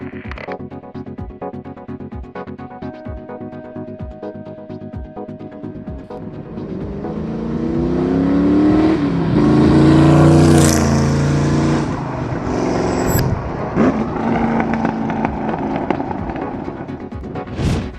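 A 1965 Shelby Cobra replica engine idles with a rough rumble, then revs up loudly as the car pulls away and accelerates, easing off before surging again.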